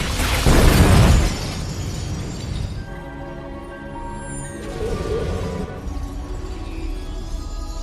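A loud burst of shattering mirrors erupts at the start of a horror film scene, a heavy crash with spraying glass that fades into a lingering tonal, eerie drone.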